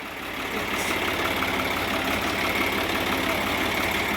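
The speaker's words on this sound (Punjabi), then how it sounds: "ਕਰ ਲਿਆ ਟਰੈਕਟਰ ਸਟਾਰਟ" A tractor engine idles steadily at close range, with an even, rapid chugging pulse and no pauses.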